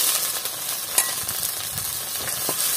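Drumstick flowers fry with browned onions in a pan, giving a steady, close sizzle with a few soft clinks and stirring taps.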